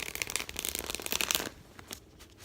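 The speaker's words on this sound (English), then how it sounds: "I think I need to shuffle again." Tarot cards being shuffled: a quick run of crisp riffling flutters for about a second and a half, then a few softer taps as the deck settles, close and fairly quiet.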